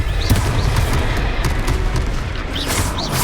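A Confringo blasting spell from Hogwarts Legacy bursts in a loud, continuous roaring explosion with dense crackling debris and rumble throughout.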